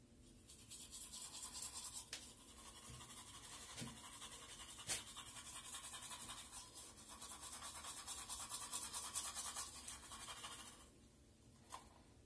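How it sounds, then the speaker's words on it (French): Teeth being brushed with a toothbrush, a faint, steady scrubbing and scratching that keeps up for about twelve seconds, heard close with a few small clicks and no talking. "Je vais me brosser les dents."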